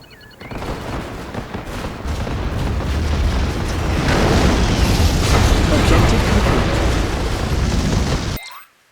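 Loud, sustained rumbling explosions and blasts fill a Red Alert 3 video game battle as the Iron Curtain superweapon is destroyed, a dense wall of booms and crackling debris that swells and then cuts off abruptly.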